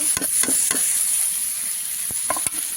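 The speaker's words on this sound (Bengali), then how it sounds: "একটু চাল ভাজাটা দিয়ে নাড়াচাড়া করবো" A spoon stirs fried rice powder into a fish head curry in a hot pan, a continuous close sizzle with repeated sharp scraping taps of the utensil against the metal, no voices.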